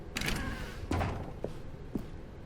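A door in The Stanley Parable Ultra Deluxe: a few soft thuds and knocks, close and fairly quiet, with no voices.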